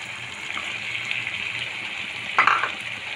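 Shrimp sizzles in a pan with chopped tomato and onion for a prawn bhuna. A steady, close frying hiss runs throughout, with a brief louder burst of stirring or spattering near the end.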